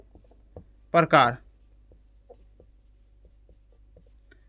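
Marker or chalk writing on a board during a physics lesson makes faint, sparse scratches and ticks, and someone briefly speaks one word.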